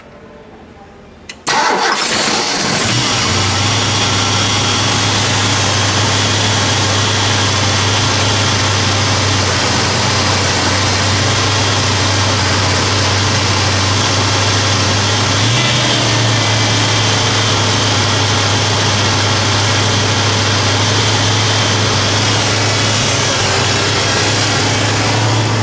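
The 7-litre 428 Cobra Jet V8 in a green 1968 Mercury Cougar XR7 GTE starts with a sharp burst, then settles into a loud, steady high idle that dips slightly lower partway through.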